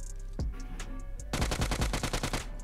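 Rapid bursts of UMP submachine gun fire ring out in the PUBG Mobile battle royale game: a lone shot, a short pause, then a fast, close, sustained volley.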